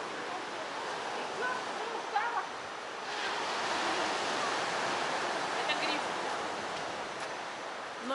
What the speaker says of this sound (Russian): шторм разгоняется, смотрите, какие сильные волны